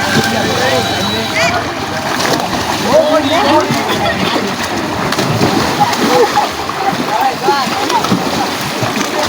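Someone swims in open water while bathing, loud close splashes and sloshing churning continuously as a voice talks over it.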